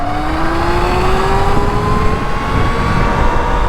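Steady motor whine of a 72V Sur Ron electric dirt bike fitted with a TruMoto Noisy Cricket kit, pitch rising continuously as it accelerates on a road, loud and close with wind rush underneath.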